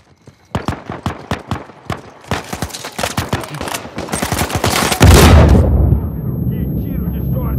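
Rapid bursts of gunfire in Uncharted 4 team deathmatch crack in quick succession, building into a loud barrage followed by a rumbling explosion and lingering noise.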